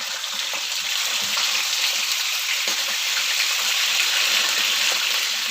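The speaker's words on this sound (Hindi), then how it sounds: "अब हम बाकी के पीसेस भी इसी तरह फ्राई कर लेंगे।" Chicken pieces frying on high heat for spicy wedding-style steam roast, a steady loud sizzle of hot oil with crackling bursts throughout, close and continuous with no voices.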